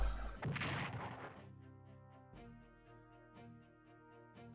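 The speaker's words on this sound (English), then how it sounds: "Let's bombard Warsaw." Artillery bombardment of Warsaw in the strategy game Strategic Command WWII: one heavy, booming blast up front, then a fading rumble under a sustained, tonal music-like drone.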